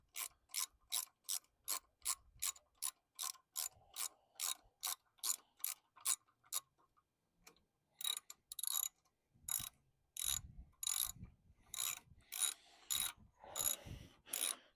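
Ratchet wrench loosening a bolt beneath the anode on a Yamaha 150hp two-stroke outboard engine, a steady train of close, sharp clicks, then a pause and faster, rougher ratcheting strokes.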